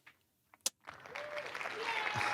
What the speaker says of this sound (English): It's applause.